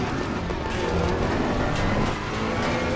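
A Ferrari 488 Evo race car engine roars steadily at Imola in the ACC racing game, a loud, continuous, close-up drone that holds throughout with no pauses.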